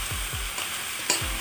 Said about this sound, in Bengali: এটাকে ভালো মতো নাড়াচাড়া করবেন যতক্ষণ না মশলাটা ভাজা হয়ে যাচ্ছে